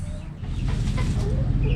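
Hens clucking inside a backyard chicken coop during hot summer weather, a steady low murmur of soft clucks and coos that carries on throughout at a moderate, close level with no talk.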